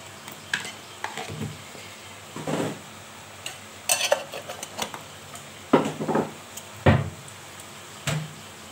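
A spoon stirs a prawn and taro stolon curry with coconut and turmeric in a pan, producing intermittent scraping and clinking strokes over a faint background sizzle.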